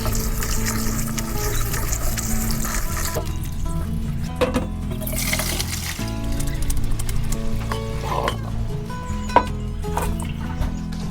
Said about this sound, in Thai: พอนุ่มแล้วเราก็เปิดน้ำใส่ครับ